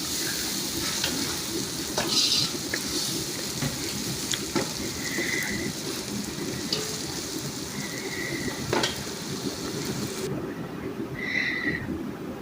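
Tomatoes frying with spices in a pan for chana pulao, a continuous close sizzle with occasional clinks and stirs, and faint tonal beeps or squeaks now and then in the background.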